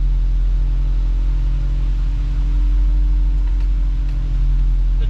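Hydraulic wing plow lowering on a 2021 Chevrolet 5500 snowplow truck, a steady low mechanical hum and rumble that holds evenly and close throughout with no talk.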